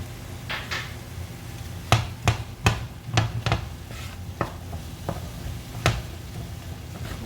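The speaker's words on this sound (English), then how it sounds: "Give that a quick stir." A spoon taps and scrapes sharply in a pot while seasoned ground meat with salt, black pepper, red pepper, chili flake, onion powder and garlic powder is stirred. There are about a dozen crisp clinks over a low, steady background hum.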